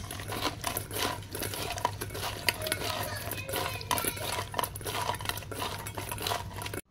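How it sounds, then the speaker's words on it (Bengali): Prawns are mixed by hand with salt and turmeric in a bowl, producing soft irregular wet squelching and light clinks of the bowl, close and quiet, over a low steady background hum. "লবণ হলুদটা এখন খুব সুন্দর করে একটু মিশিয়ে নিচ্ছি চিংড়ি মাছের সঙ্গে।"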